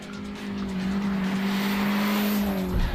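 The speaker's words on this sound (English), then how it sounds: "all that power pushing through the front wheels caused lots of wheel spin" A front-wheel-drive car spins its wheels hard at launch, a sustained loud tire squeal over steady engine roar, staying close and continuous throughout with a brief surge at the end.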